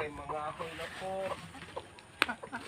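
Backyard chicken clucking in short rhythmic bursts close by, with a sharp louder call near the end, amid outdoor talk.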